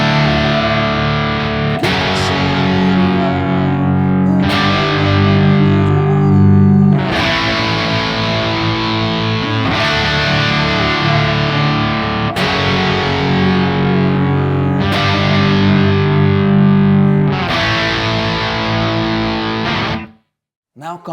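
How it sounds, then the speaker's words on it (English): A distorted electric guitar strums a chord progression, each chord struck about every two and a half seconds and left ringing, loud and sustained before stopping at the end. "the second guitar, distorted one, can do like this. Just let it ring."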